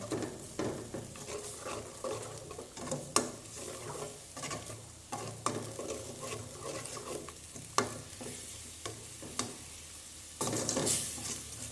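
Green curry paste stir-fried in coconut milk instead of oil for a pork green curry with chicken feet, a steady close sizzle with repeated scraping strokes of the spatula against the pan, no voices.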